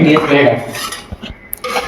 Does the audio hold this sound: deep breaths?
no